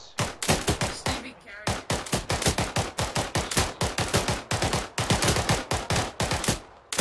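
Rapid automatic gunfire in the military shooter Arma 3: loud, close bursts of evenly spaced shots that rattle on almost without pause for several seconds.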